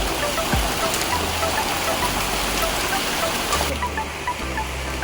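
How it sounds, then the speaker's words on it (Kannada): Steady rain pours down all around, a dense, even hiss of drops throughout with no pauses. "ಮಳೆ ಗಿಜಿ ಗಿಜಿ ಗಿಜಿ ಗಿಜಿ ಅಂತ ಸುತ್ತಂತ ಇದೆ"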